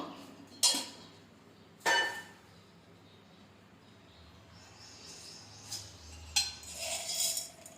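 A metal spoon clinks twice against a mixer jar while adding cumin seeds, followed by soft scraping and a few lighter taps in a quiet kitchen.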